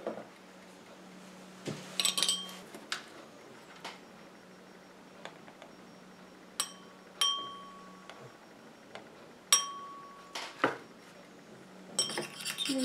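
A homemade lipstick mixture tinted with orange pigment is stirred in a small container, giving sparse, quiet metallic clinks and taps against the sides, spaced irregularly over a steady low background hum.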